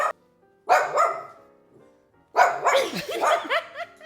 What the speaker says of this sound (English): so if I touch Allie, you can hear him bark.